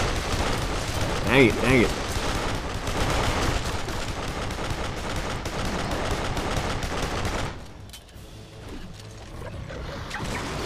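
Rapid gunfire in the first-person shooter Duke Nukem Forever, dense bursts of shots and explosions filling most of the stretch before dropping off near the end, with someone talking over the action.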